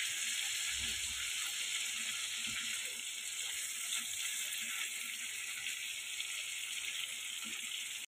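Garam masala spices sizzling in hot oil left from frying shrimp, a soft, steady crackle and bubbling, fairly quiet and close, cutting off abruptly at the end.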